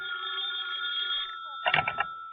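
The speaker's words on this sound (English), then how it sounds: "her phone rang" A telephone rings with a sustained bright electronic tone, followed by a short rattling clatter of the handset being picked up, with no talking over it.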